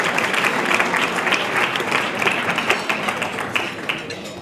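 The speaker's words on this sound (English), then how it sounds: "Could we welcome him with a round of applause" A large crowd at the 2019 Muslim News Awards for Excellence ceremony applauds steadily, a dense wash of clapping that holds at a consistent level throughout.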